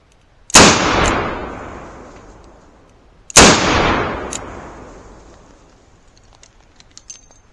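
Two loud, sharp gunshots from a Colt Trooper .357 Magnum revolver with a 4-inch barrel, each a sudden crack followed by a long booming decay outdoors, spaced about three seconds apart with faint clicks afterward.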